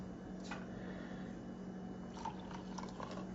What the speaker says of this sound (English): I rinse my bamboo whisk at the same time